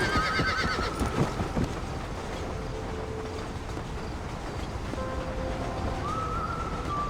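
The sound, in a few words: horse neighing and hooves in the video game Red Dead Redemption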